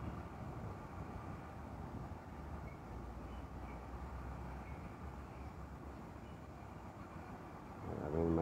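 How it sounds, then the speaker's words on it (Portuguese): Airplane taking off at Recife Guararapes airport, a steady low distant roar of jet engines that swells louder toward the end, with no talking. "Mais outra decolagem."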